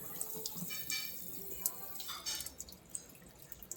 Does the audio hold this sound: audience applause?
no